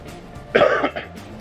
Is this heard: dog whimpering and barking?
no